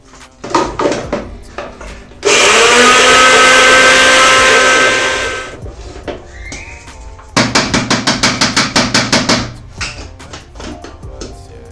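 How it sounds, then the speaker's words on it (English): A kitchen blender grinds oats, with a few clattering knocks, then a loud sustained whirr lasting about three seconds, and later a run of rapid pulsed bursts. "So we are going just to grind this oat."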